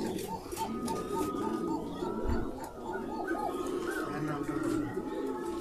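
Pigeons at a pigeon farm in Bangladesh coo repeatedly in soft, rolling calls from nearby, while people talk over the steady background.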